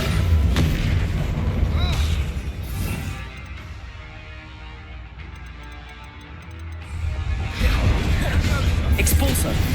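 A Bombardo spell explosion in a Harry Potter video game, delivering loud low booms that bracket a quieter stretch, with a voice calling spells over the blasts.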